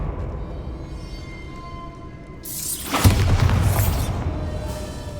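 Spell blast in Hogwarts Legacy: a rushing whoosh builds into a sharp explosive boom and crackling shatter, with a rumbling tail fading out afterward.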